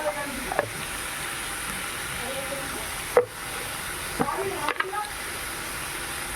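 A jackfruit-seed curry sizzles steadily while being sautéed in a pan, with a constant frying hiss and a few sharp scrape and tap transients from stirring.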